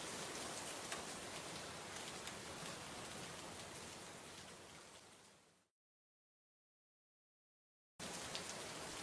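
Steady rain falling in a cartoon scene, a dense even hiss of drops on surfaces that fades out, cuts to silence for a few seconds, then returns at full strength.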